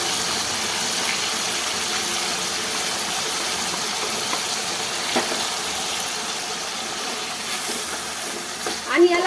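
Mixed vegetables sautéing with ground masala in oil give off a steady, close hissing sizzle that continues throughout, with a brief louder scrape near the end.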